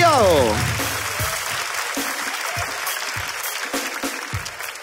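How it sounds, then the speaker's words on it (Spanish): A live audience at a comedy show breaks into loud applause, a dense steady clatter of clapping that begins after a brief vocal sound and slowly fades while staying strong to the end. "Ya, un aplauso para el perrito."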